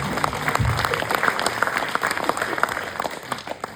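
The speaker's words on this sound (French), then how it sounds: "on peut applaudir bien fort, bravo Alison" A team applauding a teammate at a weightlifting championship gathering, a brisk crowd of hands clapping steadily and close, with a few faint voices mixed underneath.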